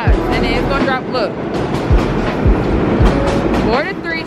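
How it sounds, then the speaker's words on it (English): A downtown 3 train on the New York subway rides the rails with loud close rumbling and repeated clicks and clacks of the wheels over track joints. Voices can be heard over it. "Board a 3 train, downtown to New Lots Avenue."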